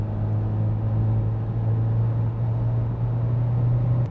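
Engine of a VW Golf 4 R32 accelerating with a steady, loud low drone and droning hum held throughout, heard from inside the car; no clear misfire gaps stand out.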